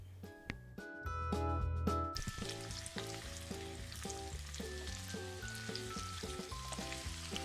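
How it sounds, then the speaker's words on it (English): Onions cooking in a pan for topping pork brats, a steady close sizzle throughout with clinking and scraping at the start and a soft musical tone running underneath. "I'm going to caramelize some onions to go on top of my brats"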